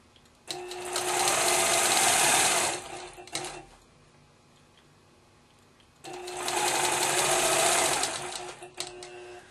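A sewing machine quilting a pumpkin seed pattern along a quilt border runs in two steady, sustained bursts separated by a quiet pause, close and clear with no talking.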